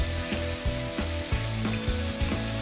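Sliced beef frying in a pan with browned onion, a steady loud sizzle with rhythmic scraping strokes as it is stirred and seasoned, close up and without talk.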